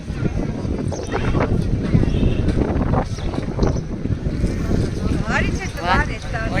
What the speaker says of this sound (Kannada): ಗಾಳಿ ಜೋರಾಗಿ ಬೀಸುತ್ತಿದೆ